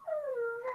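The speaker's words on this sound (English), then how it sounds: "You can hear a little whine in the background." A dog whines in a long, high, wavering tone that slowly falls in pitch, close by and fairly steady, rising again briefly at the end.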